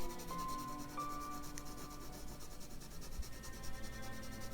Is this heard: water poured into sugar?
no